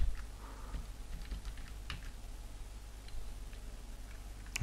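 Rapid typing on a computer keyboard while entering a new HTML tag, a steady stream of small close clicks and taps over a quiet room hum, with no voices.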